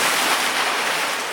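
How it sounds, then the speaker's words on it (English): Ocean waves splash hard against rocks at Mermaid Grotto, a loud, close, continuous wash of surf and spray. "the bigger waves that come in, they splash quite hard on this area here"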